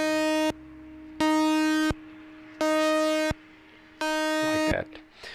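A sustained synth tone switches hard on and off in four even blocks under a square-wave LFO, each burst about three-quarters of a second long with abrupt silences between, steady and fairly loud.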